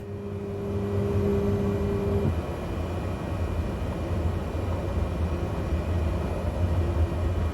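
A Cessna 208B turboprop taxiing in a flight simulator, a steady loud engine drone and rumble with a tonal whine that drops away after about two seconds, leaving a continuous broadband roar.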